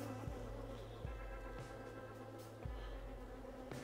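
Honeybees buzz around an open beehive during an inspection, a faint continuous drone with a few passing pitch shifts as individual bees fly near.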